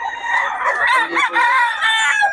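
Roosters crow loudly and close by, with hens clucking in between, layered calls filling the whole stretch without pause, at a chicken market in Bocaue.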